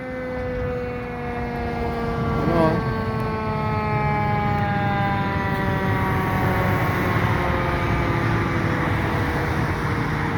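A fire truck siren wails on a highway at a crash scene, its loud, sustained tone slowly falling in pitch over heavy traffic rumble as the truck passes close by, with no one talking.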